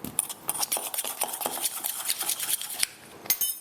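A utensil briskly stirs a dill, Old Bay and cornmeal batter in a bowl, producing rapid close clinks and scrapes in a steady rhythm with no talk.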